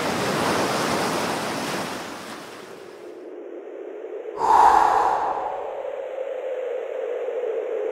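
Sea waves washing in with a broad, hissing rush that fades, then a sharper surge of surf breaking midway before settling into a steady lower roar, close and fairly loud with no voices.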